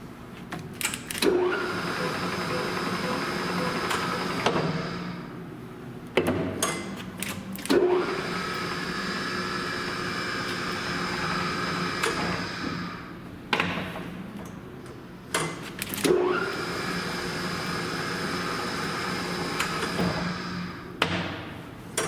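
A geared machine runs at low speed with a steady mechanical hum. Recurring ticks and heavier thumps come every several seconds, and no voices are heard.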